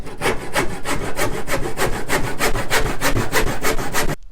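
A handsaw cuts through a 2x4 held in a vise to finish a lap joint, with steady, rhythmic back-and-forth strokes, about two per second, loud and close, ending abruptly.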